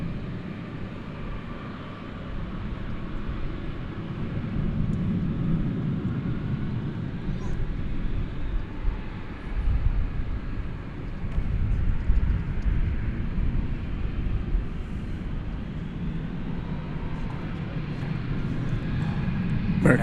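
An American Airlines jet takes off from DFW Airport, with a broad, distant engine roar that swells and rumbles steadily for about twenty seconds, while faint speech sits in the background.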